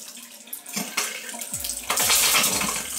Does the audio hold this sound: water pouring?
yes